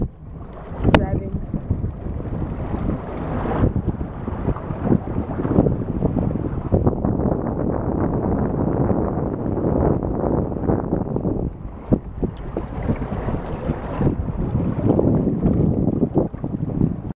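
A sailboat running wing on wing in steady wind, with continuous rushing wind buffeting the microphone and water wash close by for the whole stretch, plus a brief sharp knock near the start.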